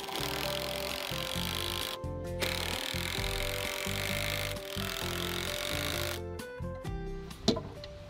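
Wooden braces are being worked into place on a double deep firewood rack, a sustained scraping, rubbing wood sound with a few brief gaps and a sharp knock near the end.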